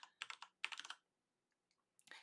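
Short bursts of keystrokes on a computer keyboard while entering text in Photoshop: a quick cluster of taps, a pause, a second flurry, then silence and a few final keys, close and fairly quiet.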